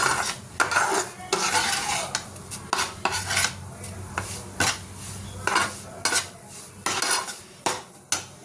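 Semolina fried lightly in ghee in a pan, with repeated loud scrapes and clinks of a spoon stirring over a soft sizzle, close and rhythmic.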